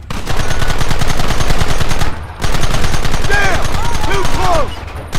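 A Red Dead Redemption shootout at sandbag defences, with dense, rapid gunfire rattling loudly almost without pause. There is a short break partway through, and a shouted voice cuts in over the shots.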